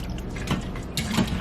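Broth pours into a pot of Instant Pot chicken noodle soup, giving a steady, soft liquid splash with a couple of brief, fuller gushes partway through.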